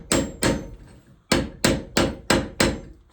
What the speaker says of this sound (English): take the hammer and hit this.